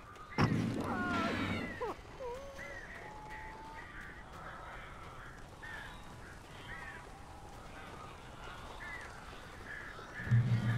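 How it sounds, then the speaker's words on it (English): Birds in the video game Alan Wake call in harsh, scattered cries, with a louder burst at the start and another near the end over a dim ambient background. "These birds are weird."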